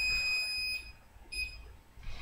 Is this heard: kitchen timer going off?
yes